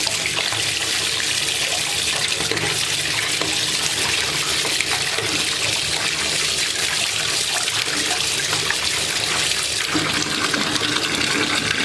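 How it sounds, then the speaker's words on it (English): Tap water runs steadily and loudly over a Lush bath product, a constant broadband rush of splashing with no pauses and no voices. "Just run it under the water some more."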